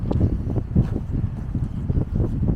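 Gusty winter wind in the Carpathian mountains buffets the microphone in a steady low rumble, with uneven bursts of loud buffeting throughout.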